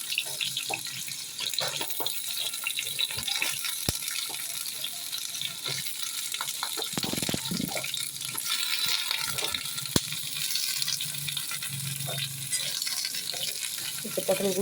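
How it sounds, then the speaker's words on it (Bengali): Pointed gourd sizzles steadily in oil in an aluminium wok, with frequent clicks and scrapes as a spatula stirs it close by for a sustained stretch. "এবার পটলগুলোকে আমি নাড়তে থাকি"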